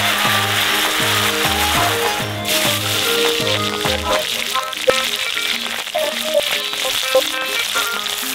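Curry leaves and green chillies sizzle and crackle in hot oil for a restaurant-style Apollo chicken, a loud continuous frying hiss with popping under background music.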